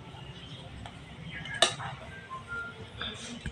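Bowls clink and clatter faintly as payesh, a sweet rice pudding, is served into them one by one in a home kitchen, with one sharp chink and a few softer knocks under a low room hum.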